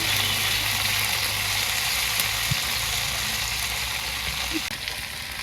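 Leafy greens hiss and crackle in a pan of frying onion and garlic, a loud, dense sizzle that holds steady throughout with a couple of brief clinks, slightly easing near the end.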